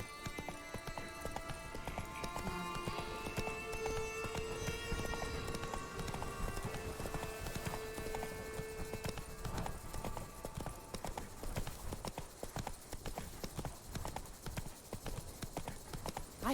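A horse gallops in The Witcher 3, its hoofbeats drumming rapidly and evenly throughout, close and clear, accompanied by background game music with sustained tones and no talking.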